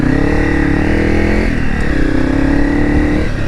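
A Honda CRF300 Rally motorcycle ridden along a single-track trail makes a loud, continuous engine drone close by. The pitch dips midway and then climbs again as the throttle changes, with no talking.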